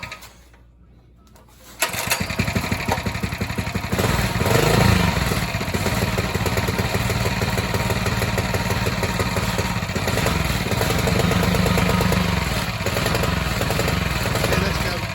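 A Coleman 200 small engine with no exhaust fitted cold-starts after a quiet moment, then runs loud and rattly at a steady buzzing idle close by, with a brief rev rising near the middle.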